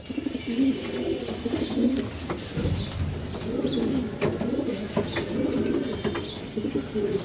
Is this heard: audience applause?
no